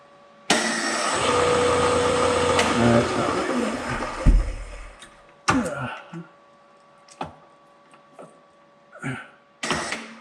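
A Frick sawmill engine runs loudly for several seconds, its tone wavering and shifting as it is put into high gear, then drops out into a string of separate knocks and clunks with quiet gaps between.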